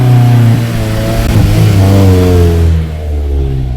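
A Honda S2000 engine with a straight pipe exhaust revs hard up close, its loud raspy drone rising and falling across the whole stretch with no talk over it.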